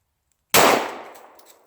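A single 9mm gunshot striking a padlock, one sharp loud crack with a metallic clang that rings and decays over about a second, heard alone after silence.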